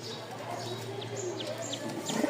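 Male Giribaz flying pigeon from Rajshahi cooing nearby, soft repeated low coos over a steady background with a few faint chirps from other birds.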